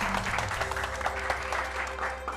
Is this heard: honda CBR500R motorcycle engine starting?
no